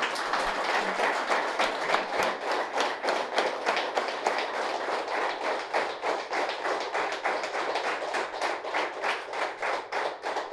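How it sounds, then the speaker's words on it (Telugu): An audience claps loudly and continuously at a pyramid center anniversary gathering, dense rhythmic applause that is sustained throughout. "ఒకసారి గట్టిగా చప్పట్లు కొడదాం"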